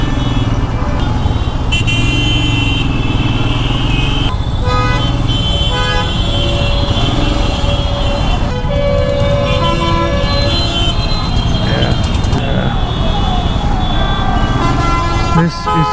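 Dense city traffic in Lucknow, India, with repeated car and motorbike horns honking over a steady roar of engines, loud and close throughout, with voices mixed in.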